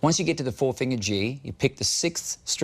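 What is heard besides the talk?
No everyday noise stands out behind the speech.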